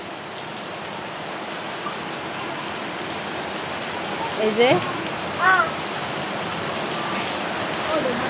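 Steady rain falls continuously outdoors over a rural yard with ducks and a chili garden, a dense even hiss throughout, with a brief spoken word and a few faint bird-like chirps near the middle.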